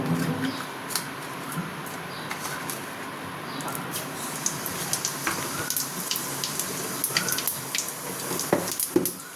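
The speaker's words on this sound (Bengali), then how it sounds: "এটাতে সাদা জিরের ফোড়ন দেব" White cumin seeds sizzling in a little hot oil for tempering, a close steady fizz dotted with sharp crackles and pops that grow busier toward the end.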